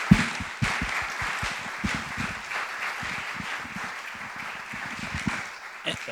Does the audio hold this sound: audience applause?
yes